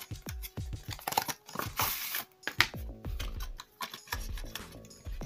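Phone case box for a Huawei Honor 8X Max being cut open, close and fairly quiet, with a run of sharp crinkling cardboard and plastic snips and rustles in irregular bursts.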